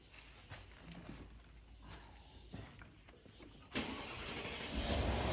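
A Mercedes S222 with an M278 engine cranks and catches, roaring up to a steady, loud idle after a few seconds of quiet rustling and clicks.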